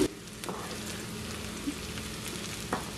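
Onions sautéing in a pan for Maldive fish sambal, a quiet continuous sizzle with a few light scrapes of a spoon, close and steady, with no voices.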